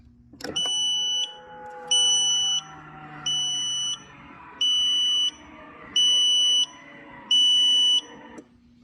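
A buzzer in an M-1 Cobra sounds six evenly spaced, loud electronic beeps over a continuous lower tone, then everything stops at once.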